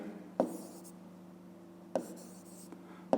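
A pen writes out a math answer on paper, heard as faint scratching strokes with a few sharper taps at intervals, close and quiet over a steady low background hum.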